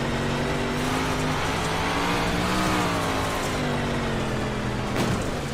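Onboard McLaren race car engine in a racing video game, a loud, continuous high-revving whine with shifting pitch as it accelerates and downshifts, one brief clunk near the end.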